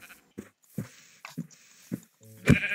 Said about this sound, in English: But hey, there's sheep.